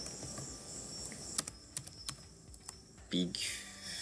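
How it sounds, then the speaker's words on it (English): Someone types on a computer keyboard in a quiet room, producing scattered crisp key clicks close by, with a steady high insect-like hiss in the background and brief speech near the end. "let's just type big flavor"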